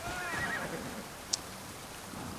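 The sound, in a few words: horse neighing in video game Assassin's Creed Odyssey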